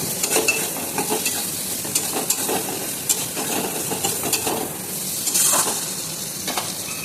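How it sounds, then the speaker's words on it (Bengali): Potatoes stirred and fried in a spice masala for a catla fish kalia, a steady close sizzle with scraping spoon strokes and a few louder stirring bursts, no talk. "আলুটা দিয়ে ভালো করে একটু কষিয়ে নেব।"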